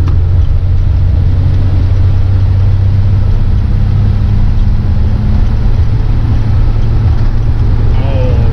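A Ford F-350 diesel truck pulls hard at half throttle in fourth gear, its loud, steady engine drone dominating throughout with a constant low rumble and no pauses.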